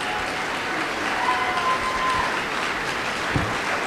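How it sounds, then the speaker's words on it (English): Steady applause from a theatre audience for a group of musical performers, a moderate, even wash of clapping throughout with no talk over it. "please keep the applause going for all of our performers"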